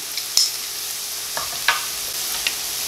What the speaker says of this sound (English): Let's give this a stir. Remember, anytime you're cooking with garlic, you never want to just leave it sitting there for long.